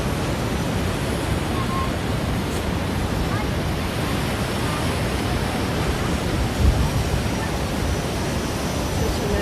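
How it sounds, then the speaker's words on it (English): Large surf waves roll and crash continuously at Kuta Beach, Bali, a dense steady roar of breaking water mixed with breeze buffeting the microphone, no voices heard. "the waves are extremely huge, good for surfing"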